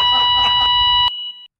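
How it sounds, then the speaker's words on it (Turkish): A shrill electronic beep holds as a steady tone over a loud, noisy background for about a second, then rings on alone briefly before cutting off. "Ya bu nasıl bir bip sesi be?"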